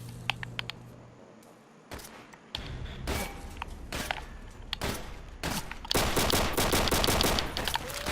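Gunfire against a zombie in Call of Duty: World at War, on a custom zombie map. Scattered sharp shots come first, then dense, sustained rapid fire toward the end.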